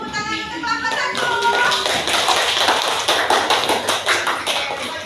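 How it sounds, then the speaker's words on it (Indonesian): Classroom of students clapping for the first group after its presentation, brisk dense clapping with a teacher's voice briefly over the start. "Kalau bagus, mari beri tepuk tangan untuk kelompok 1."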